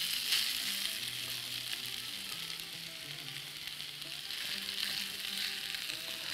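Couscous seasoned with salt and pepper frying in a pot or tray, giving a steady, close sizzle and crackle throughout, with soft melodic notes faintly underneath.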